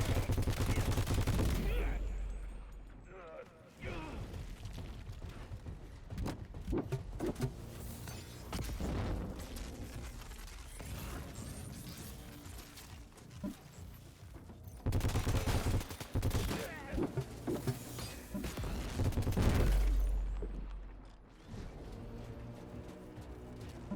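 Video game gunfire crackles in rapid, sustained bursts of shots and booms, loud and close, with a voice talking over the shooting.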